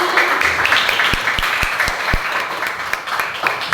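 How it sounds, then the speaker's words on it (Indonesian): A room of participants at a school counselling workshop applauds for Mbak Nina, steady clapping with a few loud, distinct nearby claps punctuating the middle. "Tepuk tangan yuk buat Mbak Nina."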